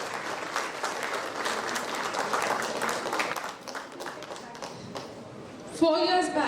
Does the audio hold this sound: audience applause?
yes